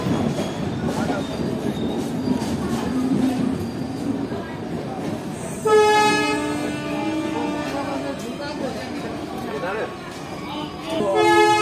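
Kaziranga Express train at a platform beside a general coach, with steady rumbling and clanking, then a sustained high squeal of wheels or brakes in the middle, under people talking nearby.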